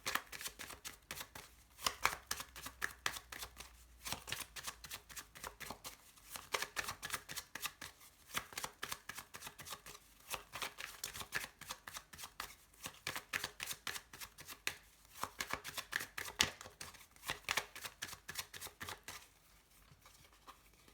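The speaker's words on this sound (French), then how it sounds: "Donc je vais remélanger un petit peu" Tarot cards being shuffled over and over, a fast papery riffle of overlapping flicks and slaps that runs for about twenty seconds, close but soft, with no speech.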